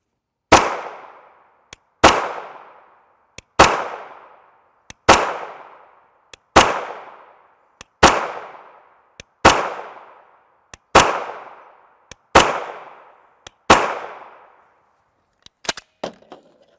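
A CZ Scorpion Evo 3 S1 SBR 9mm carbine with a 7.72-inch barrel fires about ten loud, evenly spaced single shots, each a sharp crack with a short echoing decay. A few faint clicks come between the shots, and a quick rattle of small bangs ends the string.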